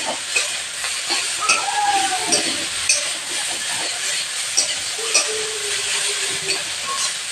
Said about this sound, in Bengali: তো শাকটাকে ভালো করে এভাবে নাড়াচাড়া করতে হবে।